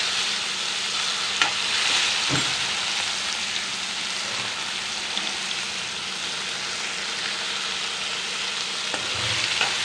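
Onions frying in hot oil with a steady, dense sizzle and occasional pops and crackles, close and continuous with no talking.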